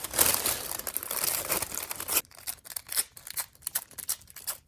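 Tissue paper being ripped into pieces, a dense crinkly tearing at first that breaks into a string of short, separate rips and crackles, close and fairly quiet with no voice.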